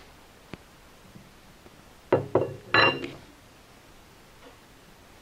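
An air-powered hydraulic 8-ton long arm jack gives a couple of sharp metallic clanks and a short hissing release in a quiet space, with a faint click before and a quieter tick after.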